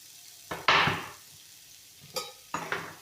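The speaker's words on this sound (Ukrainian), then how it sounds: "І підсмажу цю цибульку." Short bursts of sizzling as onion fries in a hot pan, a loud hiss near the start and a few quieter crackles later, with no voices.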